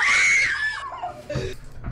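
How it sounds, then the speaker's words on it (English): A shrill scream from an old video being played back, loud and sustained at first, then sliding downward in pitch and breaking into rough, fading vocal noise. "The scream."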